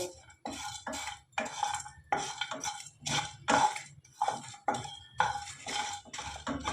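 Whole spices for chicken bhuna are dry-fried in a pan, with a utensil repeatedly scraping and clinking against the metal in steady strokes, close and fairly loud, with no talking.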